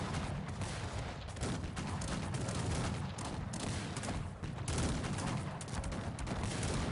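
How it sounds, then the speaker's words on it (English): Massed musket volleys in the Cossacks 3 battle: a dense, continuous crackle of overlapping shots with occasional heavier thumps, sustained and loud throughout. "My men are firing in all directions, and the dragoons are falling back."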